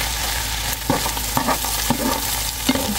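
A spoon stirs chicken pastille filling frying golden brown in a pan, giving soft scraping strokes and a few sharp clinks over a steady low sizzle, close and moderately loud with no talking.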